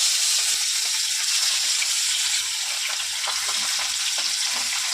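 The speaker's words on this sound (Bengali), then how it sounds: "এদিকে তেল বেশ গরম হয়ে গেছে। এবার আমি একে একে মাছ ছেড়ে দেবো।" Fish pieces sizzling in hot oil in a home kitchen, a loud, steady, close frying hiss that runs unbroken for the whole stretch with no voices.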